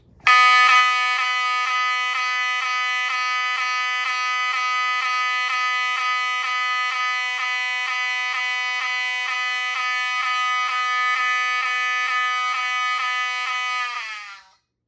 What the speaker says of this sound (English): Next up is the 7002-24. This is the regular Wheelock version.